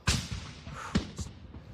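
Sharp gunshots ring out across a Costco parking lot, a few distinct cracks spread over under two seconds, heard from some distance with no one talking.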